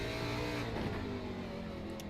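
Race car engine at Road America, heard from inside car number 23 as a steady, loud, continuous drone with throughout, no breaks, close and dominant.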